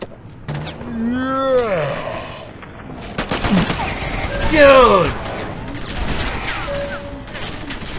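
Bursts of gunfire from an attacking turret bot in Fallout 4's Automatron add-on, close and loud, layered with whirring robotic sweeps and a person's pained shouts.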